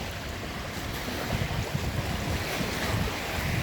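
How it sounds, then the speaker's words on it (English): Boat wakes wash steadily onto a warm, quiet lake beach at a state park campground, a continuous near rush of lapping water mixed with wind noise and no voices. "Boat waves."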